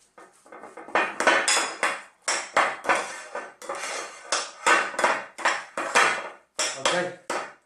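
A utensil scrapes and knocks rhythmically against a bowl while mixing a dry fish and potato cake mixture with parsley and chives, giving repeated loud, evenly spaced strokes close up with brief pauses.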